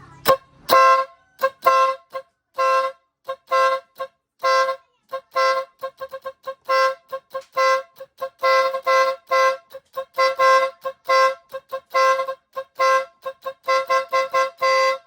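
A compact car horn honks repeatedly in short, uneven bursts during a wiring test, some quick taps and some longer blasts, loud and close with no other sound between them.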